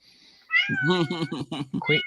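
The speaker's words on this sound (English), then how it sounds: "whose cat is that?" A house cat meows loudly and repeatedly close by, a series of about six drawn-out, pitched cries in quick succession, breaking out backstage during a basketball talk show.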